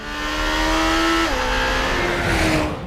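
A Lamborghini Temerario's turbo engine screams up toward 10,000 RPM on a race track, a loud, close, sustained wail with one brief pitch drop at a gearshift before it climbs again.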